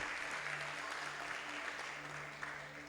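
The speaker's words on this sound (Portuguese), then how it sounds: "Isso, aplauda Jesus." A church congregation claps together in a sustained, even round of applause, heard from a distance and fairly quiet, the dense patter holding steady before easing slightly toward the end.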